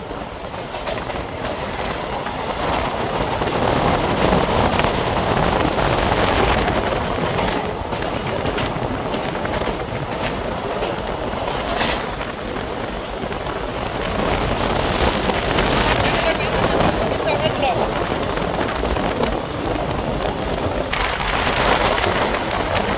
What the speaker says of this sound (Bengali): ট্রেন এখন তার গতিবেগে ছুটে চলেছে